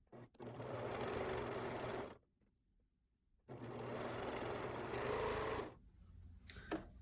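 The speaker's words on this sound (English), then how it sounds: "I'm just going to use a straight stitch on my sewing machine" A sewing machine runs straight stitches in two steady bursts of rapid stitching on underwear separated by a brief quiet pause, then a few light clicks.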